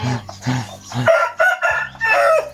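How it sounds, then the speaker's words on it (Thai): Several chickens in a coop cluck and squawk close by, a few short low clucks followed by louder, higher crowing calls. "ไก่มาลักไข่ของพี่นิวลักไข่เบานิว"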